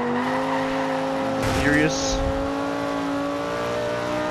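Engine drone of a car racing in Forza Horizon 2, a steady mid-pitched hum with a brief burst of revving and tire noise midway, with someone talking over it.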